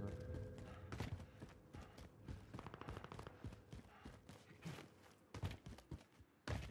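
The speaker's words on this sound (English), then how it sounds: "The footsteps are pretty bad." Footsteps and scattered impacts in Call of Duty Warzone gameplay inside an office floor with cubicles, a rapid irregular patter of steps under faint game noise, fairly quiet.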